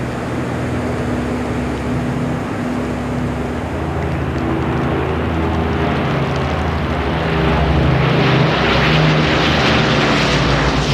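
Spitfire and Hurricane propeller fighters in a flypast at a Battle of Britain 50th anniversary event, a steady loud engine drone that swells nearer toward the end, with no talk.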